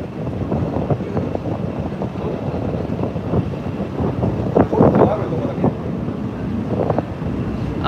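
Wind gusting across the deck of a morning passenger ferry sailing from Shodoshima to Takamatsu in Japan, a steady broadband rush with buffeting on the microphone and a slight swell near the middle, no talk.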